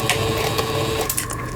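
A Singer 7258 household sewing machine stitches forward and then in reverse, a loud, close, continuous mechanical whir with rapid rhythmic clatter and no talking.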